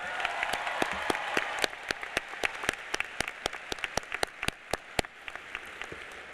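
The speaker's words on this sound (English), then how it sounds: "Let's give them a round of applause." An audience at the 2012 Euclid High School commencement ceremony applauding the staff: fairly sparse, distinct hand claps in an uneven patter over a soft crowd background, continuing steadily.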